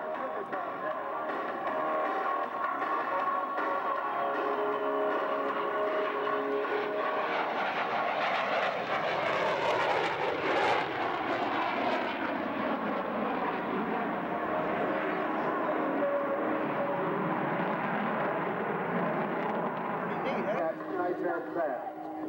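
F-14 Tomcat jet engines roar continuously at a 1997 airshow at Frederick Municipal Airport, Maryland, a loud rumbling pass that swells and shifts in pitch as the jet goes by.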